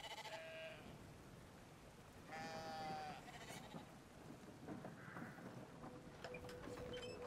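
Sheep bleats from the video game Brothers: A Tale of Two Sons, several wavering calls spaced across the clip over a steady ambient game backdrop with rain-like noise.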